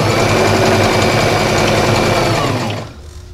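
A sewing machine set to its longest basting stitch runs loud and close in one continuous rapid mechanical whir, then stops abruptly near the end, leaving quiet room tone.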